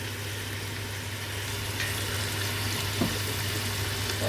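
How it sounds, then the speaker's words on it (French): Onions frying in a pan for couscous royal, a faint, steady sizzle with a low hum underneath and one small clink of stirring. "Je vais rajouter mes oignons."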